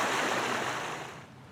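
A creek swollen with snowmelt rushes steadily nearby, a broad continuous water noise that fades slightly toward the end.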